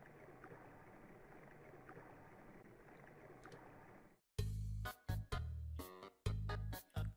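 Rushing water fills an area of the video game Undertale as a steady, hissing wash for about four seconds, then cuts off abruptly into short, loud electronic game tones.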